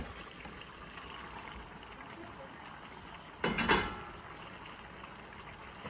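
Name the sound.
pouring drained noodles into bolognese sauce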